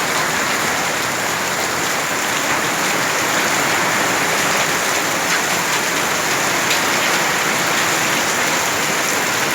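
Hail falls with heavy rain during flooding, making a loud, dense, steady hiss and clatter that fills the whole stretch without a break. No voices are heard.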